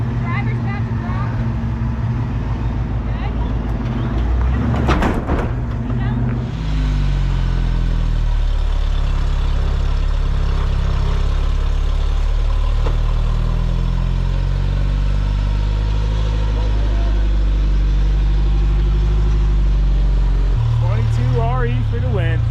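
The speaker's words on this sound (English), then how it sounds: "Torquey little engine." A Ford Bronco engine idles with a deep, torquey low rumble that swells and settles through a long stretch, loud and close, while people talk over it.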